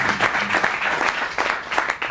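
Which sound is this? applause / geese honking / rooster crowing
applause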